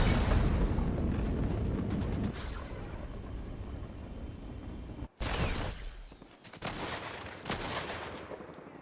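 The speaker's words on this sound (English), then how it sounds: "Oh, there's actually a lot of firing." Gunfire in the shooter game Fortnite: sustained, dense rapid-fire shots with booming impacts for several seconds, a brief gap, then more volleys of loud close shooting.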